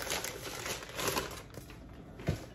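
A plastic bag crinkles and rustles in bursts while a subscription gift box is unboxed, with a few sharper crackles toward the end, handled close up with no talking.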